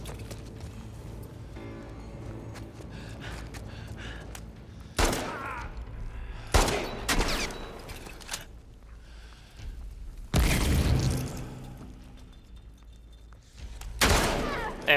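Game gunfire from The Last of Us Part II, a few sharp loud shots in separate bursts about five, six and a half, ten and a half and fourteen seconds in, over a busy background of in-game ambience.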